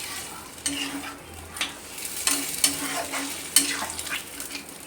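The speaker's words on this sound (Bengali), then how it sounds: "এঁচোড়টা রান্না করছি। কষানোর পরে অল্প একটু জল দিয়ে দিলাম" Young jackfruit and prawns cooking village-style in a pan, with a steady close sizzle and repeated scraping stirs of a utensil against the metal.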